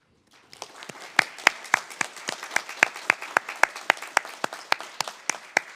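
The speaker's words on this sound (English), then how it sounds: "Let's give them a well-deserved round of applause for all they do for the county and for the community" A small group at a county Board of Supervisors meeting gives staff a round of applause, with steady, moderately faint claps that build quickly and keep a brisk, even rhythm.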